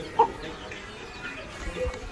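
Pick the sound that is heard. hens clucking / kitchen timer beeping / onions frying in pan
hens clucking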